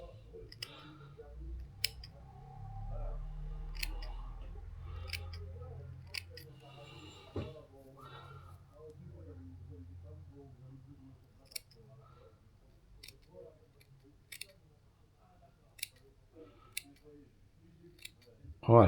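Scissors snipping at hair, sharp isolated cuts spaced irregularly, close and crisp, with a person talking quietly at times.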